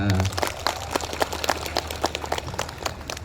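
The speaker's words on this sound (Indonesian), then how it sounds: "Tepuk tangan." Audience applause at an oath-taking ceremony for thousands of government contract employees in Subang, West Java, heard as a loud, dense clatter of clapping with sharp individual claps standing out, sustained for a few seconds.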